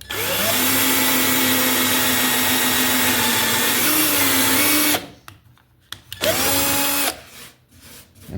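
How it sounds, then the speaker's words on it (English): Power drill boring slowly through the fiberglass front clip of a 1966 Ford Mustang drag car: a loud whining run of about five seconds, a pause, then a shorter burst of drilling, close up and alone. "I'm just going to drill our fiberglass slowly."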